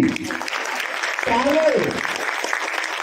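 Audience applause in a cinema hall, Screen 2 at Platina Mall, Howrah, dense and sustained through the whole stretch, with crowd voices and a sliding vocal whoop mixed into the clapping.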